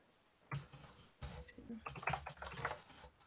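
Someone types on a computer keyboard, producing a steady run of close, quiet key clicks in irregular bursts with a few heavier taps.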